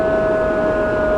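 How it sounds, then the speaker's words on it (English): Emergency vehicle sirens on a Manhattan street, a loud, sustained wailing tone holding steady over the traffic rumble of the city, with no one talking. "Yeah, these sirens, we're gonna get another copyright."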